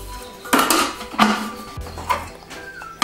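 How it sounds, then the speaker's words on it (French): A plastic measuring-cup lid is set and closed on a Thermomix bowl holding butter, giving several close hard clunks and clicks spaced about half a second apart, with faint motor hum between and no speech. "ensuite on ferme le gobelet"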